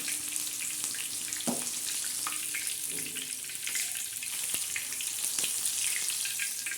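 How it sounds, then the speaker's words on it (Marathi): Red chilies frying in hot oil in a pan, a steady close sizzle running throughout with occasional sharper crackles and spits, no talking. "मस्त अशा लाल आपल्या लाल अशा मिरच्या तळत आहेत"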